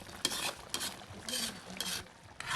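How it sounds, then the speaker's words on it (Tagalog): A spoon scrapes repeatedly through chicken supreme sauce in a pan, giving quiet, rhythmic scraping strokes over a soft simmer, close and faint with no talking. "Make sure to mix it well and stir it always"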